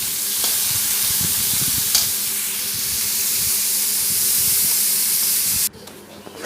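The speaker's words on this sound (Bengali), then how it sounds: "পেঁয়াজটা আমি লাল লাল করে ভেজে নেব।" Onions frying in oil in a pan for a fish jhol, a loud, steady sizzle with bursts of stirring, cutting off abruptly near the end.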